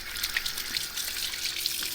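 Water runs from a kitchen sink tap in a steady close trickle with small splashes while hands are washed, brief and fairly soft, no talking.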